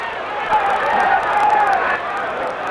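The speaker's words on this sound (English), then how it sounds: "Listen to this crowd. The crowd is absolutely electric." A boxing arena crowd at a Hagler versus Duran championship fight roars in a sustained, loud wash of cheering and babble that swells briefly and holds steady throughout, with no single voice standing out.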